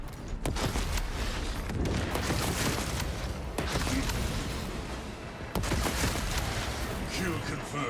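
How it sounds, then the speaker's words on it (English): A frag grenade is thrown and explodes in the Space Marine video game, heard within dense, loud, continuous combat noise of booming blasts and rapid gunfire that carries on throughout without letup. "Throwing frag grenade."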